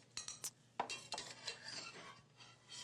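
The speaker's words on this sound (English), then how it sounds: "So here, I'm just going to move the pot. Move the pot over there so I can start cooking the onions." A pot shifted across a kitchen stovetop before onions go in for asparagus soup, a few faint metallic clinks and scrapes followed by soft shuffling handling noise, quiet and close.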